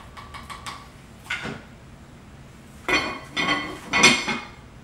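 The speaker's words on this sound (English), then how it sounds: "Put the lid on it." A metal lid set onto a cooking pot of lobster bisque simmering on a low flame, giving a few light clinks and then a louder cluster of ringing metallic knocks as it settles into place.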